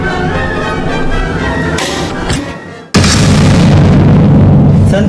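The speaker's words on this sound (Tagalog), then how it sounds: "Marahil, ang lamparang iyon ay may dinamitang kaya sumabog." A sudden loud boom from an oil lamp rigged with dynamite cuts through a dramatic stage scene, with a sharp burst followed by sustained roaring noise.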